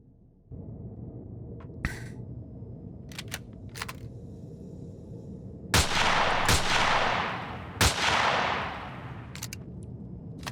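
Weapon fire in Empyrion Galactic Survival (Reforged Eden): several sharp shots ring out over a steady ambient hum, some single and some in quick pairs, with two heavier blasts trailing off in long, noisy decays.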